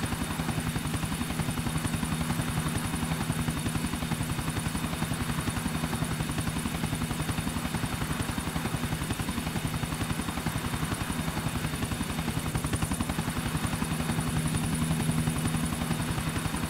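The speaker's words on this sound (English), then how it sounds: "There'll be the other chopper." Steady, loud helicopter rotor chop from the video game GTA IV, a continuous rhythmic thudding drone with engine whine that holds evenly throughout with no voices.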